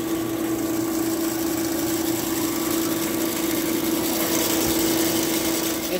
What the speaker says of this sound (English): Fan's definitely rubbing up against something on the inside, so it needs to be fixed.